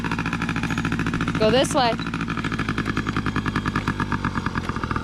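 A motorcycle engine idles and runs with a steady throbbing pulse close by while a new rider gives it some gas, and a person speaks briefly over it.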